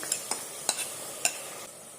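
Tomatoes tossed into frying ginger garlic paste for Telugu-style egg curry, a faint background sizzle with several sharp, close utensil scrapes and taps against the pan in quick succession.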